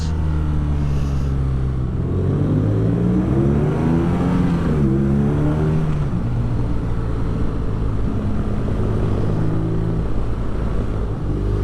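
A loud 2019 BMW R nineT motorcycle engine revs and rumbles continuously, pitch rising and falling through several throttle blips, close by with no talking.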